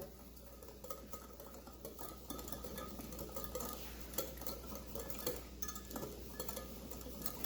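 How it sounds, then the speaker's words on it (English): A whisk rattles quickly in a bowl of sesame noodle sauce with raw sugar and sesame seeds, a quiet rhythmic clicking and scraping of metal against the bowl that grows busier toward the end. "we're going to whisk it all together"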